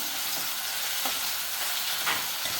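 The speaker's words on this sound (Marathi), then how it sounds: "कढीपत्ता कांदा चांगला मस्त एकदम मऊ करून घ्यायचं ब्राऊन होईपर्यंत" Onion and curry leaves sizzle steadily in a pan while cooking down for a chana dal dish, a dense continuous frying hiss with a few soft scrapes of stirring, close and fairly loud.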